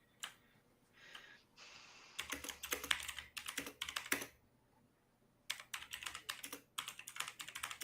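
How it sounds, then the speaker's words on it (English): Rapid, forceful typing on a computer keyboard comes in dense bursts of clacking keystrokes, separated by short pauses and a few softer taps, close and alone with no talking. "Tavern, you're rage typing."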